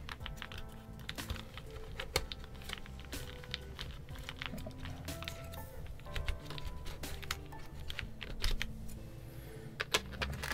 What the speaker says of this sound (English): I'm actually going to go ahead and add the accent keys.